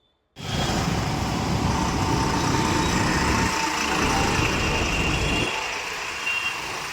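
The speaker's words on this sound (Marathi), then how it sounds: "मध्य सिटीतून या मोठमोठ्या बस जात असल्यामुळं या ठिकाणी" Big buses crawl through congested traffic on Bajirao Road in Pune, giving a loud, close, continuous engine rumble with a faint beeping tone over it.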